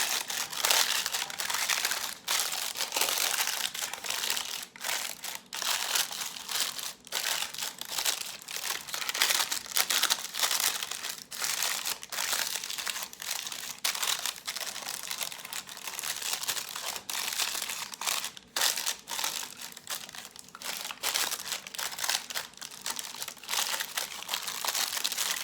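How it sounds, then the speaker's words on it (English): Reused baking paper is crumpled, creased and pushed down into the corners of a baking pan, making dense, continuous loud crinkling and crackling close up with no pause. "I'm putting the paper in the baking pan and forcing it down into the corners and making creases wherever I need to."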